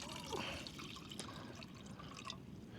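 Water is poured into a cooking pot at a campsite, a faint, close trickle with light drips and splashes.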